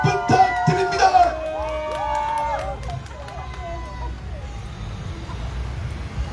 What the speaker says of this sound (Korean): 모경종 국회의원님을 뜨거운 박수로 모시도록 하겠습니다